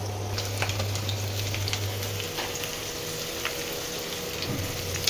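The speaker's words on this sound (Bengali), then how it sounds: "এই একসাথেই বাঁধাকপির আলুও ফ্রাই হয়ে গেল আর খিচুড়ির আলুটাও ফ্রাই হয়ে গেল।" Potato pieces fry in hot oil in a pan for khichuri, giving a steady, close sizzle and crackle that runs throughout with no voices.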